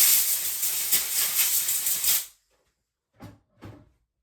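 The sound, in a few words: blowing debris off chainsaw oiler to clean it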